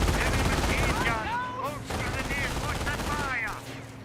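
Bursts of machine gun fire crackle in the World War II strategy game Company of Heroes, from a US .30 cal alongside mortar action, mixed with in-game voices and battle noise throughout.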